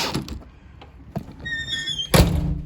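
A door swings shut and its latch catches in a reinforced jamb fitted with a repair kit, giving a solid close thunk after a few lighter knocks and a faint squeak, near and moderately loud.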